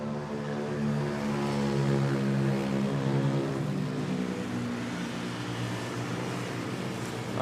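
An Air Swift ATR 72 turboprop passes overhead near Manila Airport, its propellers giving a loud, steady droning hum with clear harmonic tones that hold throughout and rise slightly at the very end.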